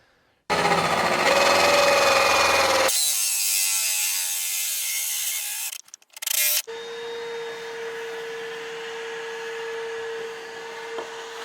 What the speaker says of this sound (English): we'll use a hole saw, drill out the areas where it's hitting